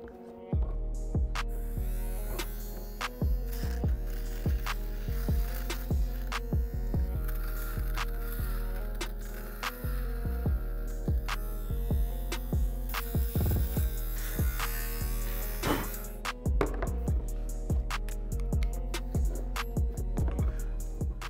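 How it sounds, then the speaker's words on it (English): An electric lint shaver drones steadily for a long stretch over sneaker sock liners, its motor humming with repeated rhythmic scraping strokes as it passes over fabric. "hit the sock liners with our lint shaver"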